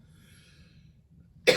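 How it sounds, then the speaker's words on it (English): After a stretch of quiet low murmur, a person gives a single sharp, close cough right at the end. "I'm gonna keep coughing"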